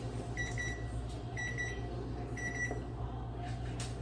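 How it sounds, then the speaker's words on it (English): An oven timer beeps in a kitchen during a green bean casserole bake, three evenly spaced pairs of short tonal beeps, faint against a low steady appliance hum. "Timer's beeping."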